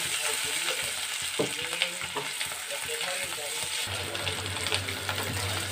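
Potato pieces fry in oil with a continuous close sizzle, broken by occasional stirring scrapes and clinks, and a low hum comes in toward the end.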